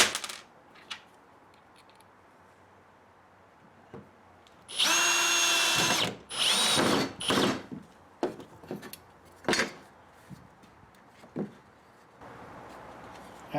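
A power drill drives stainless screws into a wooden dragon fruit planter's cross member, with several loud whirring bursts, the longest a steady grind, separated by quiet gaps with small clicks and tool handling.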